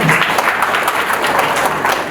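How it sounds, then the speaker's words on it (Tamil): An audience at a book launch ceremony breaks into applause, a dense, steady burst of many hands clapping that fills the room loudly and without pause for about two seconds. "அதற்கு அவருக்கு ஒரு கரகோஷம் பெற வேண்டும்."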